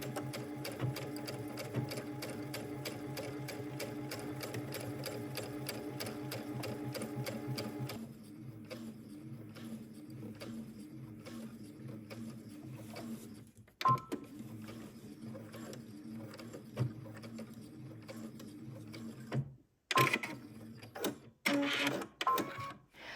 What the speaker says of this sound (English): we're going to go to the machine and stitch in our hem by sewing right along that inner fold